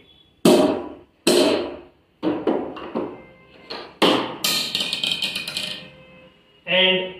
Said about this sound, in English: We will hammer it a bit.